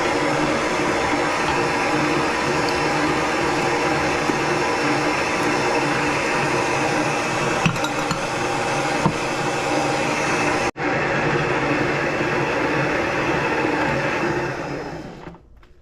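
Electric mixer whirring steadily as it beats butter, sugar and eggs for a Guyanese Christmas black rum cake, a loud continuous drone that cuts out briefly near eleven seconds, resumes, then winds down at the end.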